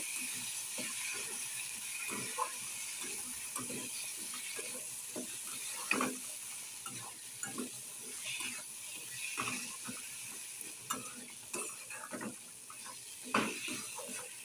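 Potatoes stir-fried in a pan give a soft, low sizzle beneath repeated scraping and clinking of a spatula turning them, fairly quiet and steady throughout.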